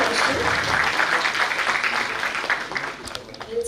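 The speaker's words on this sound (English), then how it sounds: "Let's have a round of applause for all the three speakers of this session." A conference audience at a foundation-day round table gives applause for a session's three speakers, a steady wash of many hands clapping that thins and fades toward the end, with no voices on top.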